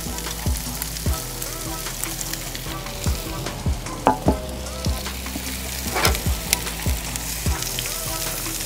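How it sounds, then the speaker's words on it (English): Peppers and onions fry in bacon grease on a Blackstone griddle, a steady sizzle broken by repeated sharp scraping and tapping of a spatula against the flat top. "we're gonna cook these peppers and onions right on top of"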